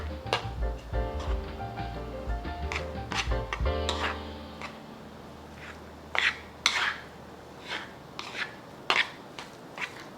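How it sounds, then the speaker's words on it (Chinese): A spoon works an eggplant and sweet potato filling with black salt, white pepper, sugar and flour in a bowl, giving scattered close clinks and scrapes, with tonal music playing over the first few seconds. "把所有食材拌匀"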